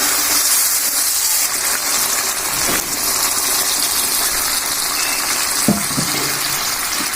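Water is poured into a pan of frying fish, making a continuous rushing, hissing wash over the sizzle, with a short clank of a utensil late on.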